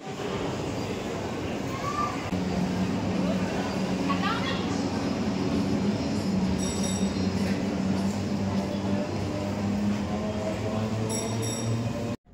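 Train at Jasidih railway station, a steady loud rumble of the rail cars running throughout with faint higher clinks near the end, then it cuts off abruptly.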